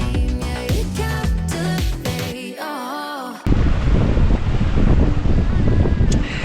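Wind buffeting and water rushing past a sailboat cruising at about six knots up the Broadwater, a steady loud broadband roar following a short stretch of music at the start.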